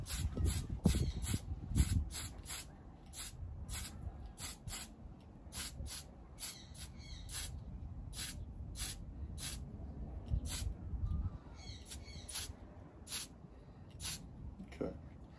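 Green spray paint is shot from a can onto a Revell 1937 Ford pickup model car in short, rhythmic bursts of hissing spray. The bursts are close and fairly quiet, and faint handling noises come between them.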